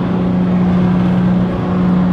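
A Jeep JK with a suspected transmission issue runs at about 3,800 RPM on a flat road, a steady, droning engine hum with a strong low tone, heard close from inside the cabin.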